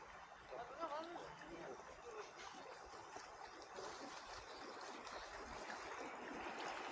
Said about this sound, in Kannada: ಅದ್ರ ಕೆಳಗೆ ನೀರು ಹರಿತಾನೇ ಇರುತ್ತೆ.